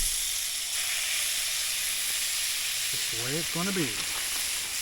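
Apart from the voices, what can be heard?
steaks searing in a pan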